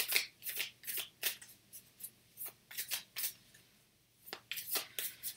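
Tarot advice cards are shuffled close up, giving soft rapid riffles in short bursts with brief pauses between them, faint and alone.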